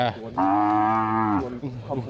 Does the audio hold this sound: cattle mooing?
yes